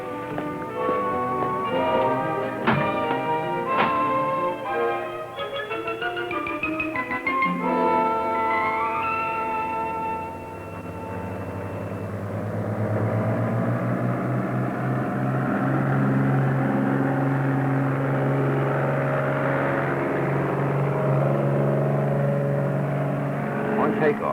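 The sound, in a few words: small airplane engine during night takeoff and climb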